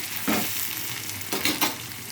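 A tempering for bottle gourd and tomato dal fries in a pan, a steady soft sizzle with a few louder stirring scrapes and pops breaking through, close and without talk.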